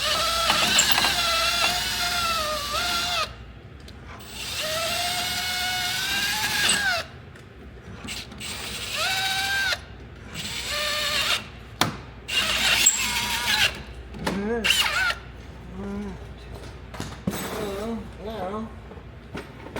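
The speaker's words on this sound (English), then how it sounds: "I am going to ream the holes out a little bit" A power drill reaming out bolt holes in a frame during a toter home rebuild, whining in long close bursts that rise and stop, with shorter spins and pauses between.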